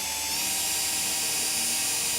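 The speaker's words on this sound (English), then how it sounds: "now we're gonna attack it with a drill bit" A loud, continuous high-pitched whine of a drill bit cutting steadily through plastic without pause, close up.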